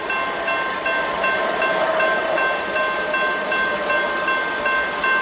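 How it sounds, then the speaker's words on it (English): Union Pacific intermodal freight train led by a Tier 4 ES44AC locomotive at a road crossing, a steady broad rumble with faint sustained tonal whine, continuous and moderately distant, no voices. "There's a Intermodal train owned by the UP."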